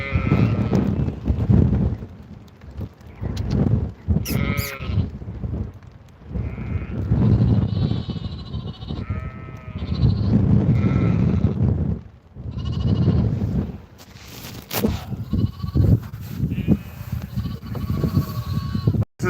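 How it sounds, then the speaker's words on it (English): Sheep bleat repeatedly at feeding time on a farm in the Dublin Mountains, Ireland, with several loud, overlapping calls close by and a crow cawing now and then outdoors. "Just after feeding the sheep there."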